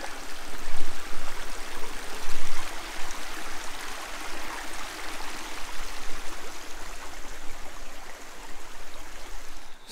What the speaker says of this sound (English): Another awesome brook with an awesome log bridge. I think this is Notch Brook